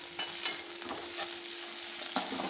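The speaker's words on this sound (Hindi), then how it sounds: "अब थोड़ा सा अदरक को भून लेंगे अच्छे से।" Ginger fries in hot oil with asafoetida for a chana dal kadhi, giving a close, continuous sizzle broken by scattered stirring clicks.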